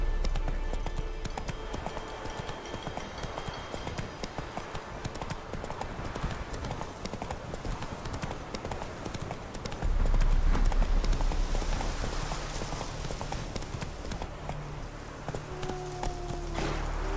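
Horse hooves clip-clop steadily while a horse is ridden in The Witcher 3 game, a continuous close trotting rhythm against ambient game sound that swells partway through.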